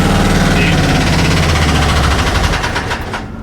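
A rebuilt 1939 Ford engine idles with a loud, rapid, rough chugging that slows and fades near the end as it dies.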